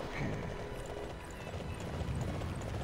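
Horse hooves clip-clop in a video game, a steady run of muffled footfalls amid busy background game noise, moderately loud and continuous.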